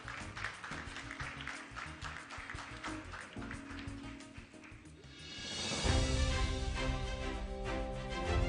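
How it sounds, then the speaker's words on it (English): Audience applause for an honorable-mention award winner at an evening conference session, a steady wash of clapping that swells louder in the second half and continues to the end. "can we give him a big round of applause?"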